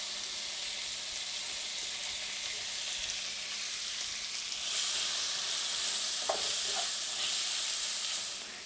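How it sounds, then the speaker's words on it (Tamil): Finely chopped onion (half a large onion) sizzling and frying in hot oil in a pan for chicken thokku, a steady broadband crackle that swells louder partway through with a few soft stirring clinks, no talking. "அந்த வெங்காயத்தை போட்டுக்கிறோம்."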